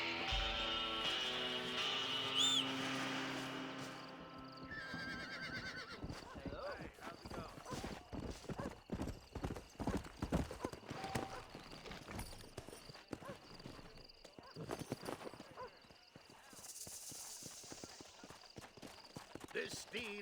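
Horse hooves clip-clopping with a whinny from a tetchy, wild steed in the Western video game Red Dead Redemption, steady hoofbeats running under game music and spoken dialogue.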